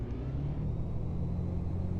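Steady engine drone from a Radical SR8 race car in a racing video game, a loud, continuous low rumble with strong held harmonics, no clear revving changes, and no voices over it.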